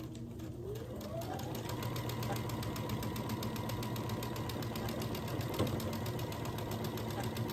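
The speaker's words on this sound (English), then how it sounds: "I will sew that 1/4 inch seam all the way down this side, taking my pins out as I go" A sewing machine runs steadily as it stitches a quarter-inch seam down the side of a scrappy pinwheel quilt block, with a continuous, close mechanical whir at an even rhythm.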